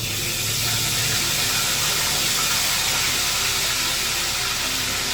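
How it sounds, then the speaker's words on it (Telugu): Soaked ingredients fry in a little oil, making a loud, dense, unbroken hiss that stays constant for several seconds with no voices. "కొద్దిగా ఆయిల్ తీసుకొని ఇది ఫ్రై చేసుకోవాలండి"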